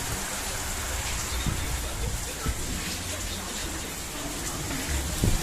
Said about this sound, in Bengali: বাহ বাহ বেটা বাহ, কি বৃষ্টি।